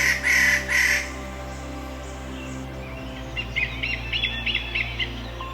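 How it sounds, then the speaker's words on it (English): Birds call in the Borneo rainforest: a few loud, harsh calls up front, then a quick series of high chirps over a steady low hum. "Rare, bright-feathered birds, some of which are endemic to Indonesia"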